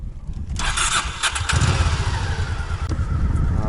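A Honda motorcycle engine starts and settles into a loud, throaty idle, with brief rising bursts at first, then a close, steady rapid pulsing rumble that carries on to the end.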